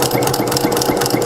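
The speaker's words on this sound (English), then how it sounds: "I'm sewing at a decent clip" A sewing machine stitching fabric for a coupon wallet runs at a quick, steady clip, with a loud, close, rapid mechanical whirring and rhythmic clatter throughout.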